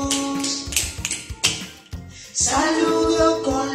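Quick finger taps patter in a light, uneven rhythm over a soft musical backing, close and moderately loud.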